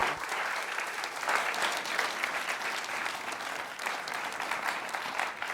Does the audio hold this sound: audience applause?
yes